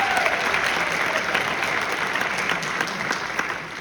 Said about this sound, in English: You can go and applaud for them.